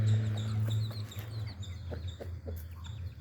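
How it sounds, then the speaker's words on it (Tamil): A young country rooster on a native fowl farm calls with short, clucking cries over a steady low hum, with faint chirps from other birds nearby. "வயசு பார்த்து இப்போ தான் கூவ ஆரம்பிச்சிருக்கு"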